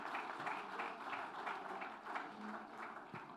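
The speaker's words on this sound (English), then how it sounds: "Please give her a huge round of applause." An audience at a book launch claps steadily, a dense patter of many hands, moderately distant and sustained without pause.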